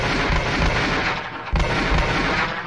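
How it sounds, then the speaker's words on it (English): A sci-fi weapon fires repeatedly at a VR shooting range in a game, producing loud, rapid crackling bursts with a brief break in the middle, with no talk. "Okay, let me try the shooting range."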